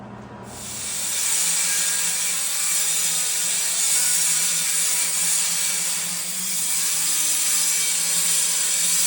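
A power tool cuts through rusted sheet metal on a Foxbody Mustang during a rust repair, a loud, steady hissing grind that runs continuously for several seconds with a brief dip midway.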